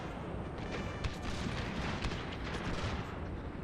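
Gunner units fire a musket volley during a Thirty Years' War battle in Total War: dense, ragged crackling shots overlap in a steady roar of gunfire with no pause.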